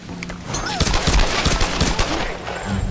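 Rapid bursts of gunfire in Tomb Raider Definitive Edition, loud and close, with overlapping shots cracking in a dense volley over about three seconds and no talk.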